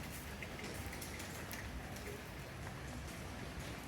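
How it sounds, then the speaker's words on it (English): Steady rain falling and pattering on surfaces around a hotel pool area in Kuta, Bali, a constant dense hiss with no pauses, moderately quiet. "So it's raining at the moment"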